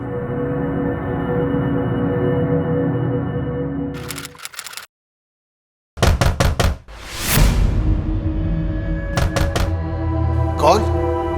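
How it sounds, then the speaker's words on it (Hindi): Police knocking on a door in a Hindi crime-drama reenactment: two separate bursts of firm, rapid knocks, close and loud, over a steady background score. "महेश जी, दरवाजा खोलिए।"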